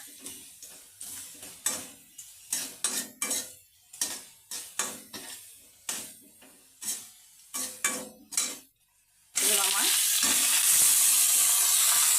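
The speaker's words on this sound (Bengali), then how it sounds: "আপনারাও বাড়িতে এইভাবে সজনে শাক ভাজি করে নেবেন" Drumstick leaves frying in a pan, stirred with a utensil in a steady series of scraping, clattering strokes over a soft sizzle, close up; near the end a loud continuous hiss of frying takes over.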